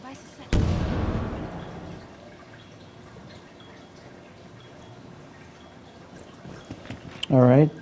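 Gunfire in the tactical shooter Rainbow Six Siege: a loud shot opens the scene with a ringing decay, then quieter scattered impacts and clicks, and another burst near the end.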